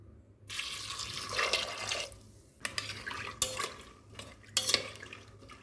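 Water poured into a pressure cooker holding green peas and other curry ingredients, a close splashing gush in several bursts with short pauses and light clinks of the pot, no voices.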